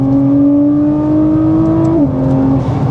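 Nissan GT-R engine revving hard on a dyno, a loud, sustained high-rpm roar with a steady pitch that briefly dips and climbs again as a gear changes, close and continuous throughout.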